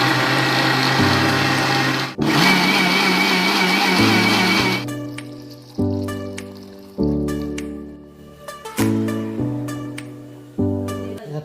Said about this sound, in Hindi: और बनाना शेक बनाएंगे।